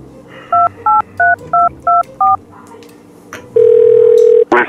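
Telephone keypad dialing: six short, evenly spaced two-tone beeps, loud and close, then a brief pause and one longer steady tone, with a small burst of sound at the very end.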